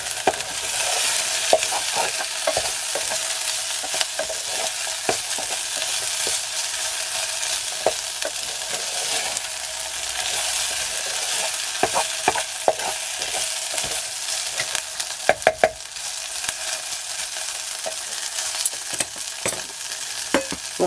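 Food browning in a pan over a Trangia camping stove, a loud, steady, close sizzle with bursts of crackling and spatter as it is stirred, continuing the whole time without speech.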